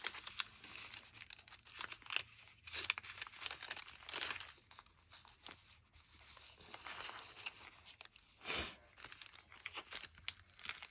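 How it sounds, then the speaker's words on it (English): Sheets of music paper crumpled by hand during a paper crafting session, a quiet, continuous crinkling and crackling with irregular bursts, close and soft. "And I'm crumpling this one up too."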